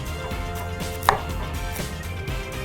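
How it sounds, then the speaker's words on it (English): A knife chops pineapple into small chunks on a board, giving a series of crisp, close, evenly spaced strokes with one sharper knock in the middle and no talking. "Let's do a bit of chopping while we're waiting. So I want some pineapple here, some nice little chunks,"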